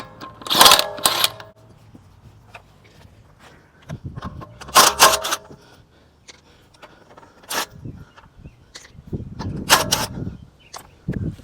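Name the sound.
removing lug nuts from a 2014 Dodge Journey wheel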